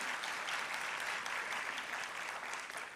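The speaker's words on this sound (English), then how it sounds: "clap them" Steady applause from an audience at a Jamaican parenting professional development institute, dense clapping sustained evenly throughout at moderate distance with no talk over it.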